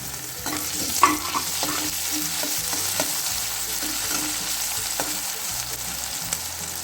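Chopped tomatoes added to onions frying in a pan for prawn kulambu, a continuous close sizzle broken by repeated stirring scrapes and clacks.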